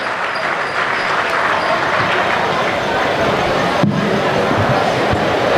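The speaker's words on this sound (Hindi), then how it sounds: "एक बार तालियां बजाइए" An audience at a Hindi comic poetry recital bursts into loud, continuous clapping that fills the whole stretch as a dense, even roar, with no voice over it.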